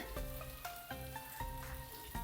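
Coconut oil sizzles steadily in a pan while a simple melodic tune plays over the frying hiss.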